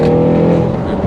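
A car exhaust rumbles loudly and steadily for about a second, with a deep, even engine drone and voices talking over it.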